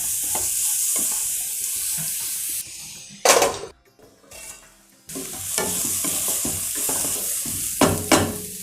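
A quarter kilo of carrots tumbles into a hot pan and fries with a steady, loud sizzle, broken by sharp stirring scrapes and a brief quieter lull midway before the crackling frying resumes.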